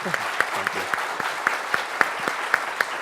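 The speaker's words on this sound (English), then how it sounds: "let's give a huge round of applause for our amazing panel" Applause for a panel at a talk, a room of people clapping steadily with a few loud, sharp claps standing out near the microphone, while a person briefly speaks over it.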